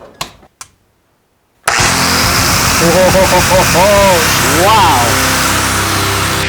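A Hercules angle grinder from Harbor Freight, rated at 11,000 RPM, starts with a sudden roar after a few taps and quiet. It keeps running loud and close with rising and falling whines, and a voice exclaims once.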